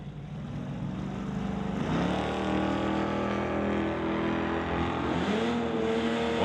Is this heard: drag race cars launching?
yes